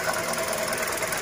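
A Toyota Grand New Avanza with the 1NR-VE engine idles with a strange noise near the engine bay, a continuous fast ticking rattle over a broad steady hum, heard up close.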